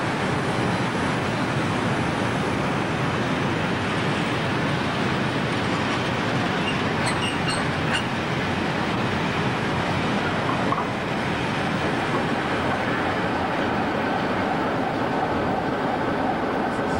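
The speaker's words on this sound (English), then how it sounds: "the oil train for the Tame branch, seen here entering the station" An oil freight train on the Tame branch enters a station in a long, loud, continuous rumble and roar of wheels and wagons, with brief metallic squeals partway through and no voices.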